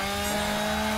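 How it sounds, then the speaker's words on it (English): A chainsaw in a video game buzzes in one continuous, loud, steady whine as it cuts through a clown, a short unbroken burst with no voices. "He just cut up a clown with a chainsaw."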